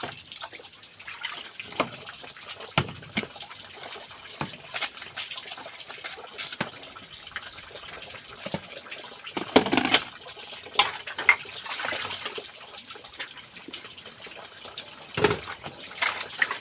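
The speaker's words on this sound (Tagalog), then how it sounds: "So karon ako sa hugasan ang plato kay para mahuman guys." Tap water runs while dishes are being washed, a soft, steady stream broken by irregular clinks and splashes of plates being handled nearby, with no talking.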